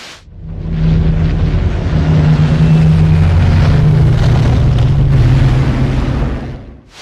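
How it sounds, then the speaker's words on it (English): A Supermarine Spitfire fighter plane from the film Dunkirk roars by, a loud sustained low engine drone fading in, holding for several seconds and fading out. "So this is I believe it's a Spitfire."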